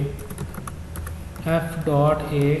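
Keys tapped on a computer keyboard while values are entered into an Oracle table, a run of light irregular clicks in the first half, then someone talking over sparser taps.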